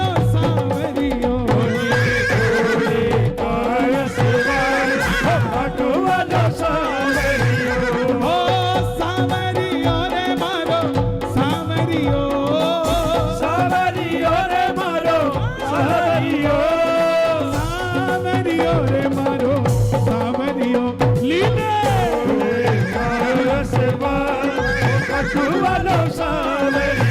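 A horse whinnies and neighs repeatedly over a steady, dense music bed, with hoof sounds blended in, loud and continuous throughout without any speech.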